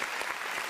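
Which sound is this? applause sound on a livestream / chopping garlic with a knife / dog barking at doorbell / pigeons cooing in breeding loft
applause sound on a livestream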